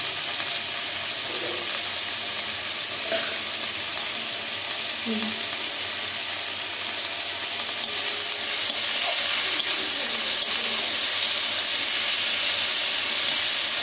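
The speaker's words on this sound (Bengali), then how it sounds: "এটা আজকে অল্প অল্প লো ফ্লেমে এটা আমি ভাজবো।" Vegetables seasoned with salt and turmeric fry over a low flame, a constant close sizzle and hiss with soft scraping stirs in the pan running on for about fourteen seconds without speech.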